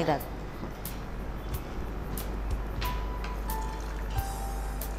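Water splashes and trickles as it is poured into a mixer jar, with scattered drips and a low steady hum in the background.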